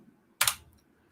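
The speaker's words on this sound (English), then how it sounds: "Went to typing too damn fast." A short, quick burst of a few keystrokes on a computer keyboard, close and fairly faint, with quiet before and after.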